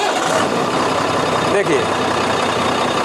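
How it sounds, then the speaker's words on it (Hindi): A Lucknow roadways bus engine runs with a loud, steady rumble, while someone talks over it. "अब इस गाड़ी को स्टार्ट किया गया है।"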